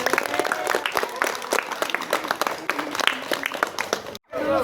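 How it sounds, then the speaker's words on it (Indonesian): Dense, sustained clapping from a group at a youth Red Cross (PMR) basic training and new-member inauguration, loud and continuous before a brief pause near the end, then resuming. "Tepuk tangan."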